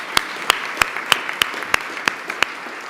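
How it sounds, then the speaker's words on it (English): Applause for event staff at a club gathering: sharp, evenly spaced claps, roughly three per second, moderately loud and steady, with no talking. "So please, some applause to them."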